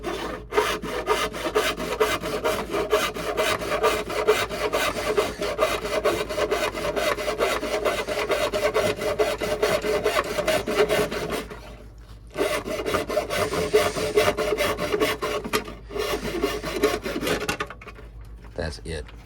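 A hand-held blade cuts a slot into a chrome LED fog light housing for a GL1500 Goldwing with fast, steady rasping strokes. The sawing pauses briefly twice.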